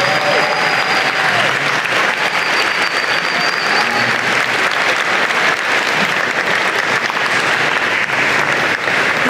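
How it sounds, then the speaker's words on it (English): A large convocation audience gives sustained, dense applause for nearly ten seconds, many hands clapping at once in a steady roar with no pause, a few faint voices and whistles mixed in. "please stand and give them a big, big round of applause"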